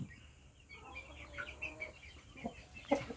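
Blue barred Brahma chickens cluck softly at a distance. Scattered short clucks and a few sharper calls rise toward the end over a quiet background.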